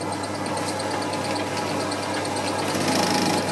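A Scheppach rotary tool just switched on, spinning with a steady, loud motor hum and a high whine that hold evenly throughout, with no talking.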